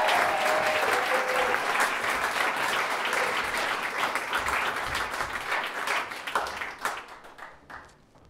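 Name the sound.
studio audience applause for talk show guests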